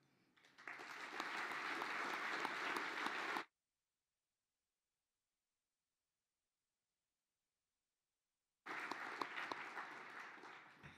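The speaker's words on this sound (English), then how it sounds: "Let's give a round of applause for the wonderful work that Carlene Deutscher and her team has put" Audience applause at an engineering excellence gala comes in two bursts of dense, sustained clapping separated by several seconds of total silence.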